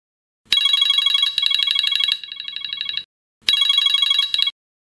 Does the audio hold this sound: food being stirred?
no